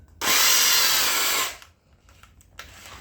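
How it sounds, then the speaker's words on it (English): A jamming power drill, used for a helicoil repair on a BMW E30 M20B25 engine, whirs loudly at a steady high pitch for over a second, then winds down, followed by faint scraping and handling noises. "I might buy a new drill"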